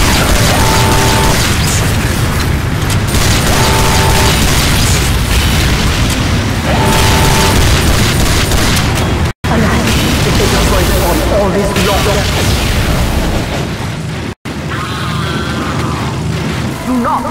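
A bomb explodes in Team Fortress 2 Mann vs. Machine on nightmare mode, heavy booming blasts and mechanical clatter piling up loudly over music and game voices.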